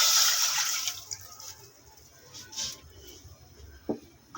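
A cup of water splashes into a pot for sweet vermicelli syrup with a brief bright pour at the start, then fades into quiet kitchen sounds and small clinks.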